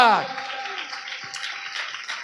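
A church congregation claps together during a Telugu Christian festival service, a dense burst of applause that stays steady for a couple of seconds after a voice briefly sounds at the start.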